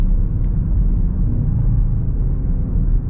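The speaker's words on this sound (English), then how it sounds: "We are in the M2 mode. Now it is going to be short shifting" A 2023 BMW XM in M2 mode accelerates with short shifts, heard from inside as a loud, steady, low engine and road rumble that fills the cabin without a break.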